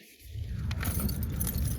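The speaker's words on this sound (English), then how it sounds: "Let me get the keys first." Car keys jangle as they are picked up, giving quick bright metallic clinks over a low engine-like rumble, close and fairly clear with no talking.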